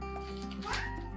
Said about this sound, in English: So Mama Kitty says hi